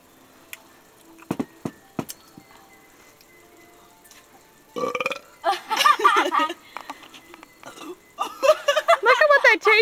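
A boy burps in a string of loud, croaky belches, first a few sharp isolated sounds, then longer rapid bursts near the end, as if burping the alphabet, with voices and laughter mixed in.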